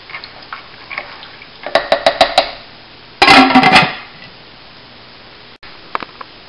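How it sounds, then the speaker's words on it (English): A pound of black beans stirred in a pot with seasoning, giving a quick run of light scraping clinks and then a louder, busier burst of stirring, close by with no talk. "And you can stir that up."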